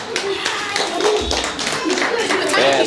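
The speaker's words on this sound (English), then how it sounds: "round of applause for everyone that made it" A group claps and cheers together at a youth strength contest in London, a dense, steady burst of applause with voices mixed in, lasting throughout.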